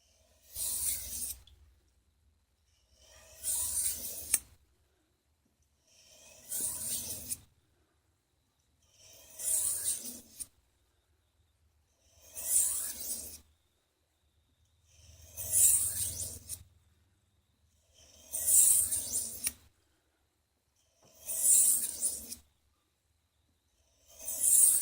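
Light sharpening strokes drawing a blade across a stone to remove the burr, nine evenly spaced rasping passes about every three seconds, close and clear with quiet gaps between.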